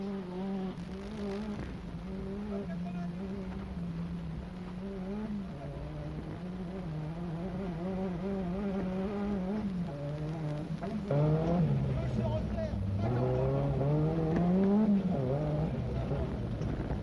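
Rally car at speed on a special stage of the 1982 Rallye Mille Pistes, its engine droning steadily with pitch rising and falling through gear changes, growing louder toward the end and heard from inside or close by.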